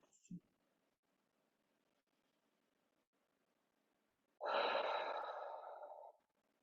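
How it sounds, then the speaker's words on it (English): One deep breath during a beginner shoulder exercise session: a brief sound at the start, then a long, soft, airy exhale of nearly two seconds, close and quiet. "Taking in 3 deep breaths."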